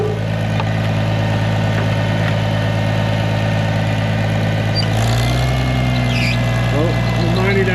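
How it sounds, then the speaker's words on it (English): An old tractor sits idling at a farm while an International Harvester IH 241 baler is being rescued, giving off a steady, close, rumbling low drone that continues unbroken throughout, with a slight change in pitch partway through. "I haven't used this tractor in quite a while, actually. I'm glad it started this morning."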